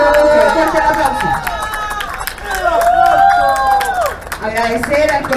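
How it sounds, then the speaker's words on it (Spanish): Audience applause at a community event, steady clapping from a crowd mixed with cheering, whistles and shouted voices, sustained and fairly loud throughout. "Fuerte aplauso."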